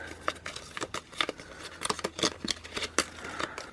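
A deck of Cactus cards being shuffled by hand, a quick series of crisp riffling and flicking bursts repeating close to the microphone, with no talking.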